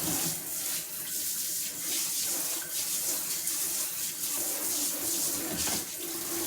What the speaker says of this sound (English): Just wash off the hands so we don't get grease all over the FlameThrower.